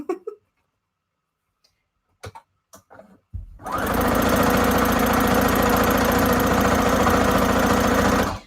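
A sewing machine stitches fabric scraps for a junk journal cover, starting after a few quiet clicks and then running in a loud, fast, steady mechanical rattle for about five seconds with the table shaking along.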